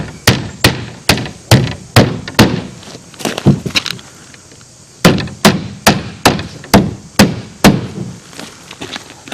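Roofing nails hammered into cement board: a rapid run of sharp, evenly spaced hammer strikes, a brief pause with lighter taps, then another steady run of loud blows, close and alone.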